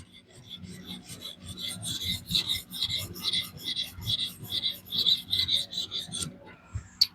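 DC53 steel knife blade being deburred on a Xarilk Gen 2 sharpener gives repeated close scraping strokes in a quick regular rhythm, with a faint low hum in the background.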